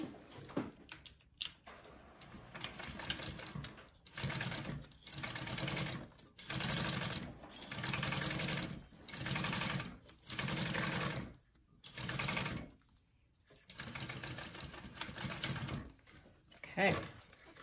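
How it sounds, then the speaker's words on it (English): A sewing machine stitches a quarter-inch seam on a handbag panel in repeated bursts of rapid mechanical whirring, separated by short pauses, close and fairly loud. "now I'm going to sew it at a 1/4 inch seam allowance"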